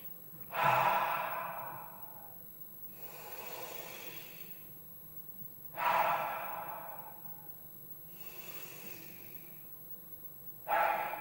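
Three slow, deep breaths taken close up, each a loud airy inhale followed by a softer, longer exhale, evenly spaced and quiet between, with no speech.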